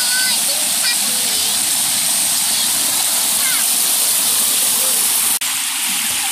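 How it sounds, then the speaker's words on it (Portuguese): Water pours out in a steady, loud, continuous rush, close by, with faint voices and a brief knock near the end. "Aqui sai água aqui tudo"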